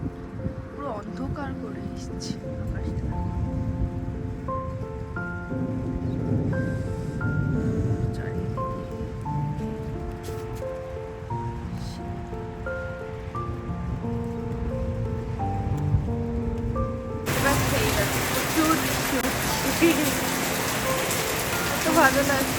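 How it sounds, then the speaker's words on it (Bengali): Heavy rain pours down in Dubai under dark, overcast skies, a dense, steady hiss that swells in the last few seconds after a stretch of voices and tonal sound. "সেই প্রচুর বৃষ্টি হচ্ছে"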